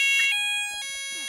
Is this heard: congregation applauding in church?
no